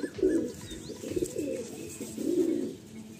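Madrasi pigeon in a Kolkata loft cooing close by, three rounded low coos in a steady rhythm with faint background noise and no talk.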